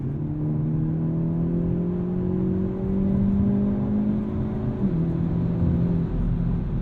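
A 2023 Hyundai Elantra N with a dual-clutch transmission pulls hard, its engine note climbing steadily before a quick upshift drops the pitch near the end; the drone stays loud and close with no talk.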